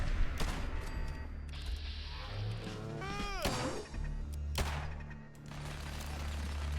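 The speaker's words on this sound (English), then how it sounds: "that is a minigun turret, not a machine gun turret" A minigun turret fires in Fallout 4, with rapid bursts of gunfire, sharp impacts and a whirring spin, all fairly close and loud.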